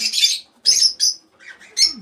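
Pet birds chirp inside a nesting box, several short bright calls in quick bursts with brief pauses between, fairly close and clear, no voices.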